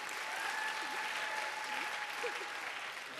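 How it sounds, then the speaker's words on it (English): Steady applause from an audience at a talk, a dense, even wash of clapping lasting several seconds with faint voices underneath. "Give him a round of applause"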